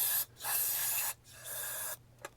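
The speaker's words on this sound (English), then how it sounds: "I'm just going to spray some cleaner down in there." Carb cleaner sprayed into the vent tube of a carburetor on a 1976 Dodge Adventurer left parked for 13 years, in two long, loud aerosol hisses, then a short third burst, with a quiet pause between.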